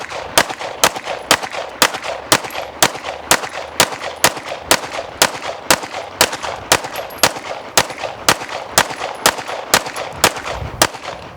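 A pistol fires at a shooting range: over twenty loud, sharp shots at a fast, steady, almost metronomic pace for the whole stretch, with no talking between them.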